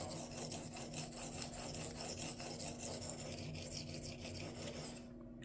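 Blade strokes on a cheap Chinese whetstone make a rhythmic, gritty rasp, many quick back-and-forth passes repeating evenly, close and fairly quiet, with a steady faint hum behind.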